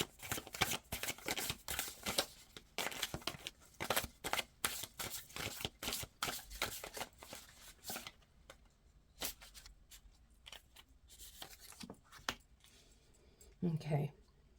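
Tarot cards are shuffled in a rapid run of crisp riffling snaps and slides, then scattered softer card handling with pauses, close and fairly quiet, and a brief voice near the end.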